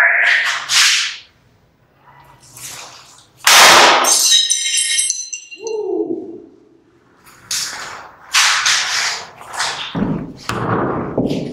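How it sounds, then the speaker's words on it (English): A sledgehammer smashes objects in a rage room: loud sharp cracks and clangs of breaking items, with shattering glass ringing out midway and bursts of impacts repeating, some voices mixed in. "I'm going to do the sledgehammer."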